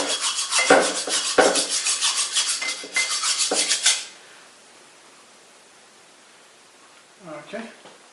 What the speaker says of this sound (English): looks like we need to deburr a little bit back here